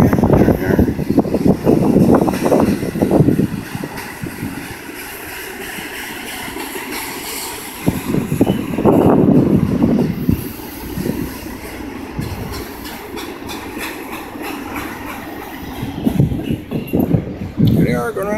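Norfolk Southern train NS 213 rumbling through Greenville, a loud, close roar with clanking wheels that swells, eases and builds again over a long stretch, while people talk now and then nearby.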